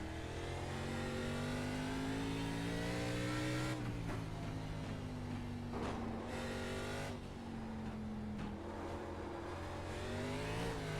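A race car engine in the iRacing video game runs loud and continuous, rising and falling through gear changes with brief revving bursts as the wheels spin, ARCA Menards Series stock car at Sonoma Raceway.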